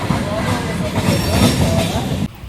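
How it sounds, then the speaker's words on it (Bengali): A passenger train on the line near Santragachi Junction rumbles and clatters loudly and steadily, the wheel noise cutting off abruptly near the end. "তো আমি ট্রেনে উঠে পড়েছি"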